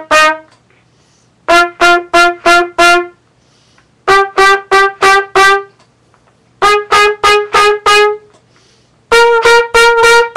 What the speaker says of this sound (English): the last thing you're going to do is do a slow double tongue,